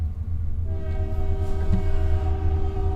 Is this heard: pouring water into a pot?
no